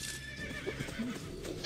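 A horse in Assassin's Creed Brotherhood whinnies briefly amid clip-clopping hooves, fairly quiet with a faint electronic background tone.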